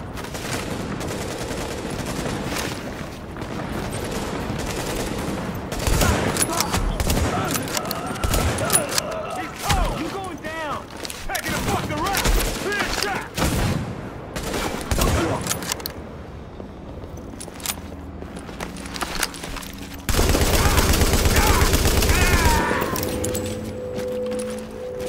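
Hostile enemies open fire in the video game Tom Clancy's The Division, with repeated bursts of automatic gunfire and impacts, loud and close, broken by quieter pauses and a dense stretch of shooting near the end.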